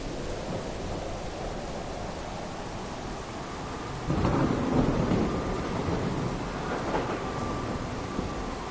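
Thunderstorm in the tram-driving game Tram Simulator Urban Transit: steady rain hiss with a deep roll of thunder swelling midway and lingering, no talk over it.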